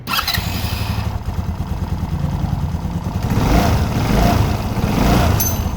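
An Agility motorcycle is started and left running, its small engine idling in a steady mid-pitched putter that swells slightly louder toward the end, with no talk.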